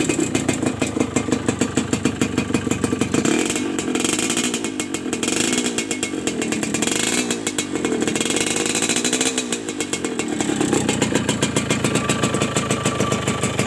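A Suzuki Satria 120R two-stroke motorcycle idles nearby, its engine running slightly rough, a loud, buzzy, rapid putter that rises in revs for a few seconds in the middle before settling back, with no talk.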